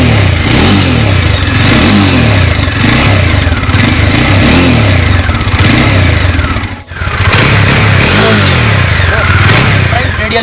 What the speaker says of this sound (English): Let's crank it up and hear the sound of this all new Dominar 400.